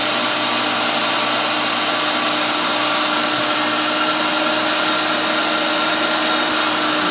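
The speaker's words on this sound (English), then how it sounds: "It's a vacuum spray situation." Loud, steady whine of a spray vacuum cleaner running on soap and water to clean living-room furnishings, a continuous motor roar with hiss and no breaks, close and constant for the whole stretch.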